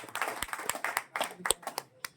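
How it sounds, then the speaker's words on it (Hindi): A small audience claps sparsely to welcome the next speaker at a seminar in Jhansi, a handful of uneven sharp claps close by, with voices mixed in. "आप तालियां बजाकर उनका सम्मान करें।"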